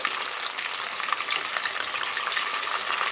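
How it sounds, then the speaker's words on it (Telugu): Chicken deep frying in hot oil, a loud, close, bright sizzle with constant bubbling crackle that holds steady the whole time and has no talk over it. "చికెన్ మంచిగా గోలుతుందండి చికెన్ అయితే మంచిగా ఫ్రై అవుతుందండి"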